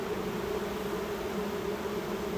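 Steady, dense buzzing of many honeybees during a hive inspection, a continuous low drone close by with no pauses or talk.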